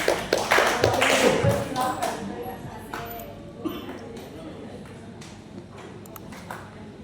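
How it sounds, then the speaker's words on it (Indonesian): An audience at a Catholic religious counselors' paper presentation applauds, loud and dense at first, then thinning into scattered claps as a voice speaks. "Mari beri aplaus untuk Bapak Weli."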